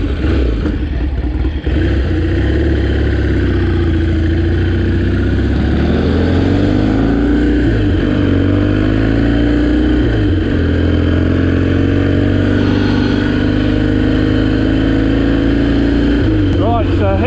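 Classic Triumph and TriBSA scrambler motorcycles, one formerly owned by a rider's father, ride off-road on a green lane, making a loud, continuous engine drone whose pitch swells and dips as the throttle changes throughout.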